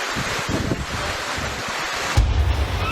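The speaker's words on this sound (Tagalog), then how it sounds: "Umuulan at ramdam ang malakas na hangin sa barangay Maasin sa Leyte kaninang umaga." Strong storm wind with rain sweeps through barangay Maasin in Leyte during a typhoon, a dense, loud roar of gusts and hiss, buffeting harder near the end with heavy low rumbles.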